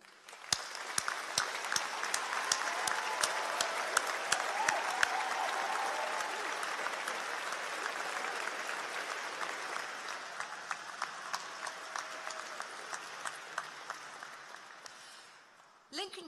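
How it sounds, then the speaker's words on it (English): A graduation ceremony audience at the University of Lincoln applauds families and lecturers, a broad sustained wash of clapping from a large hall lasting throughout, steady and loud, fading slightly before ending. "So shall we begin this evening by thanking them with a round of applause for their support"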